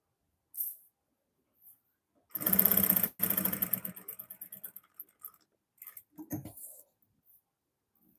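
A sewing machine stitches a garment lining in short bursts: one solid run of rapid stitching, a brief stop, then several shorter stuttering runs, close and fairly loud, with small handling noises before and after.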